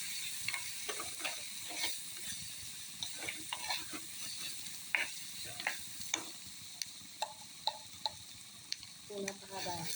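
Food frying in a pan until golden, a steady close sizzle broken by scattered sharp ticks and scrapes of stirring, with no talking.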